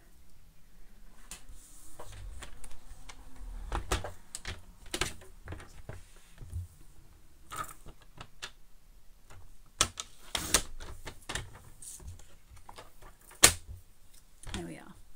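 A paper trimmer slices through cardstock during a Stampin' Up! cardmaking session, giving a series of sharp clicks and scraping swipes of the blade, fairly close and quiet, with a few brief pauses between cuts.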